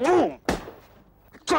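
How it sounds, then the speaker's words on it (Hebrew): A toy balloon bursts in a children's story, a sharp broadband pop near 0.5 s following a voice, with another burst of sound at the end. "הבלון התפוצץ"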